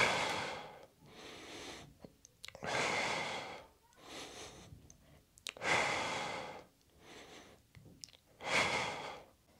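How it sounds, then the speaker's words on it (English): Breathing during a shoulder press exercise: close, forceful exhales and inhales alternate in a steady rhythm, with about six strong breath bursts separated by short pauses in a quiet room. "to demonstrate the breathing during a pushing exercise, I'll go through a variation of the shoulder press exercise"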